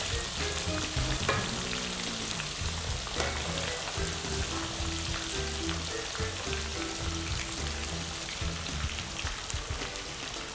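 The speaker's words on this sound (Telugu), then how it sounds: "ఇలాగా మనం ఫ్రై చేసుకోవాలి లైట్గా." Pieces of bothsa fish frying lightly in a pan for a pickle, a steady dense sizzle with soft crackles and occasional stirring clinks, close and continuous with no talk.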